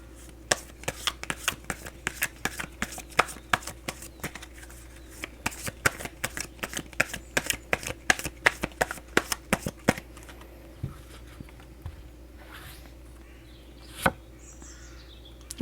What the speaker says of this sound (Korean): 조언 카드 3장 한번 뽑아보도록 하겠습니다